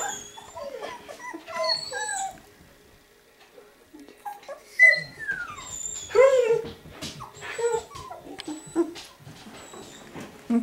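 Puppies nearly three weeks old whimper and yip in a series of high, wavering whines and squeaks, close by and fairly loud, with short pauses between bursts and no talking.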